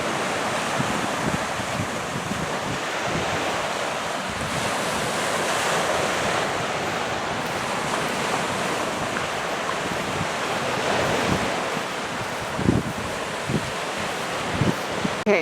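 Waves washing steadily onto the Lake Ontario shore at Four Mile Creek State Park in autumn, a continuous broadband surf roar with wind buffeting the microphone and a few louder splashes near the end, no voices.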